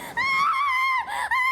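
A single sustained high-pitched scream from an anime scene, loud and close, wavering in pitch over about a second and a half with a brief dip near the end.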